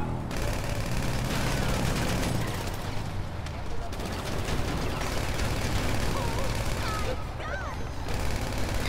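Dense, continuous bursts of gunfire in GTA V Online crackle and rattle nonstop, loud and close, with a voice talking over the chaos.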